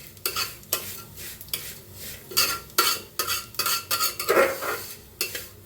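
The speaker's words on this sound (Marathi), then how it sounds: "गॅस कमी करून भाजा शेवाळ्या." Vermicelli being roasted in ghee over low heat, a utensil stirring and scraping the pan in irregular clinking bursts with a soft sizzle underneath, close and fairly loud.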